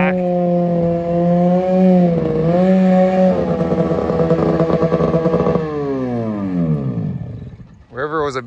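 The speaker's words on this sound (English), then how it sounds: "Your snowmobile revs too high." A loud race snowmobile engine screams at high revs, its whine holding, climbing and sliding down in pitch, then cutting off before a brief voice.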